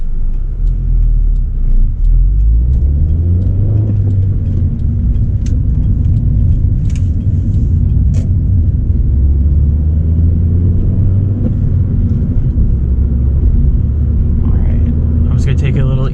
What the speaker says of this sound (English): I'll drop it down into third, and we'll pick up speed again in a second here.